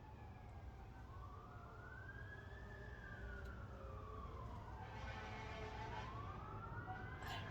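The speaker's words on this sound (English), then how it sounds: "I think that's a fire truck." A fire truck siren wails on a residential street, sweeping slowly up and down at moderate distance over steady background hum, with no talk.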